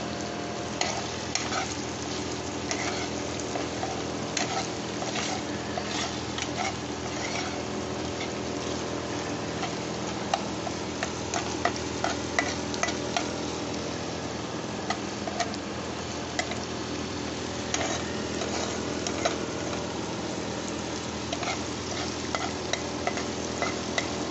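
Diced capsicum sizzles steadily in a pan of frying chilli fish for a long stretch. Small ticks and stirring clicks break up the constant hiss, and no one speaks.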